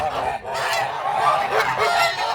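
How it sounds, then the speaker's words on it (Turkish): Giant Kholmogory geese in a flock honk loudly and continuously at close range, their overlapping calls forming a dense, clamorous chorus with no pauses. "Görmüş olduğunuz dev kolmogori kazlar"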